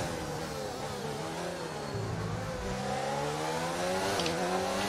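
Several race cars run side by side in the F1 2019 video game at the Bahrain Grand Prix, their engines whining and shifting through rising and falling revs in a dense, continuous roar, with no one speaking.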